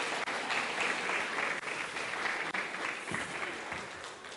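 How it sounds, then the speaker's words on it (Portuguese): Sustained audience applause at a Portuguese-language church gathering, dense steady clapping from a crowd that holds evenly for about four seconds with no voices over it. "Salva de palmas de novo para os nossos..."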